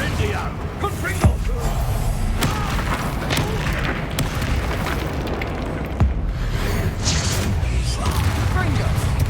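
Booming blast-spell explosions in the wizarding video game Hogwarts Legacy, several heavy bursts scattered over steady combat noise, with a player talking over the action.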